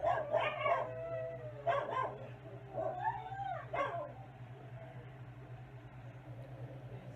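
Several dogs indoors break into short barks, then long wavering howls, in a few bursts during the first four seconds before fading to a low steady hum.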